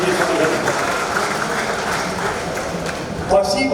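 Large audience in a packed hall applauding a speech by the poet Vairamuthu, a dense, loud, continuous wash of clapping and crowd noise throughout.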